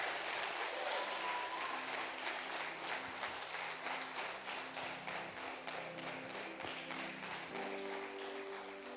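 A church congregation applauds together during a worship service, a dense, steady wash of clapping from many hands that holds throughout, fading slightly toward the end, with music tones sounding faintly underneath.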